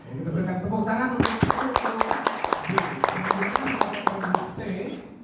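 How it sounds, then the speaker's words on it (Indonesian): An audience claps at a provincial Fahmil Al Qur'an quiz competition in South Kalimantan, with sharp, fairly regular handclaps from a modest crowd while a voice talks over them. "kita berikan tepuk tangan untuk"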